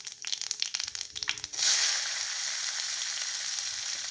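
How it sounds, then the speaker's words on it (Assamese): Cumin seeds and chopped onion frying in hot oil in an Assamese-style pan, heard after a few sharp clattering scrapes as a loud, steady, close sizzle that holds on alone. "এইখিনি ৰঙচুৱা হোৱালৈকে মই এনেদৰে ভাজি থাকিম"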